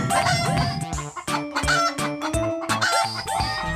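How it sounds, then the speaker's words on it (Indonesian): Chickens clucking and a rooster crowing nearby, a run of short repeated clucks and squawks in an uneven rhythm, clear and loud with no talking. "Itulah suara ayam teman-teman."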